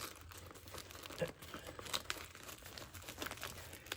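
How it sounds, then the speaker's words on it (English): A Velcro pouch on a Crye Precision JPC 2.0 plate carrier gives soft, close crinkling and rasping as the hook-and-loop is pressed and fastened, with a few brief sharper rips among quiet handling noise. "And then that Velcros up quite nicely right there."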